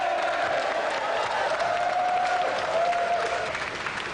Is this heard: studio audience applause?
yes